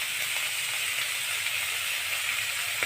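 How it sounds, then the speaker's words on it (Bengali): A steady hiss of lightly steamed taro leaves frying in a pan, constant and fairly loud, with faint crackles rising now and then. "সেইটা এটা দিয়ে আমরা এটাকে ভেজে নেব"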